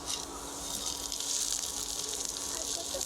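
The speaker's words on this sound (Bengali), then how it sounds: "বেশ কয়েকটা কিন্তু ভাজা হয়ে গেছে আবারও যেগুলো আছে একের পর এক ভাজা হচ্ছে" Tomato parathas fry one after another in a pan, giving a steady close sizzle with a bright hiss and crackle throughout and no voice over it.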